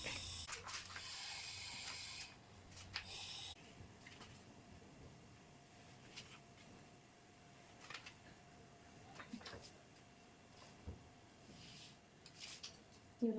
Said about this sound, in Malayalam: വെച്ച് കൊടുത്തിട്ട് ബാക്കി കട്ട് ചെയ്യുന്നത് കാണിച്ചു തരാം